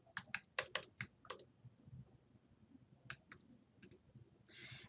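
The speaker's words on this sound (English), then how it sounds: "Enter the student's first name and EDU ID." Someone types a student's name on a computer keyboard: a quick burst of crisp, close key clicks, then a pause, a few more taps and a final louder keystroke, heard alone.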